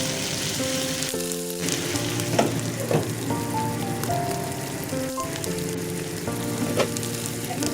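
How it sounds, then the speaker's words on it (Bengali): Pointed gourd pieces frying in oil, a steady close sizzle running throughout, with faint tonal sounds in the background. "এবারে ভালো করে লাল লাল করে পটলগুলো ভেজে নিতে হবে।"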